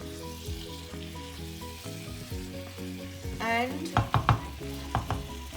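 Marrow masala sizzles steadily in a pan while it is stirred, with scraping and clattering strokes growing louder toward the end, over background music and a brief spoken word.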